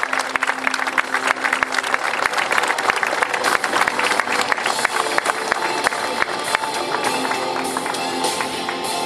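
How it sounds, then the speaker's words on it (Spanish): A room full of people applauds at an anniversary awards ceremony in El Hoyo, honoring doña María Luisa Paladino; dense, loud, sustained clapping runs the full length with a few scattered cheers. "Un nuevo aplauso entonces le regalamos a doña María Luisa Paladino."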